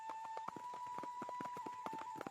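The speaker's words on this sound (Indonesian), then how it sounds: "Raden Inu menunggangi kuda melewati lembah dan persawahan menuju desa tersebut" Horse hooves clip-clop steadily as a rider travels through a valley and rice fields toward a village, a regular close rhythm of hoof strikes over a constant background tone.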